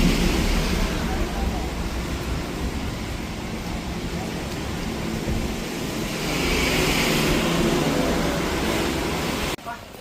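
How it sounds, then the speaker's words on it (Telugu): Strong storm wind roars outdoors during a cyclone, a steady loud broadband rush with gusts and buffeting against the microphone that continues for nearly the whole stretch before cutting out abruptly. "భయంకరమైన గాలి"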